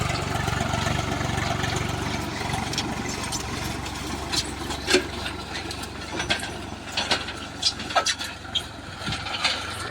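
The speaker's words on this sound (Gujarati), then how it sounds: "તો ટ્રેક્ટર મારા બાજુ જ આવે છે।" Tractor working a farm field during cultivation, with a steady low engine drone and mechanical clatter that grows closer, punctuated by sharper clanks and knocks toward the end; no talk.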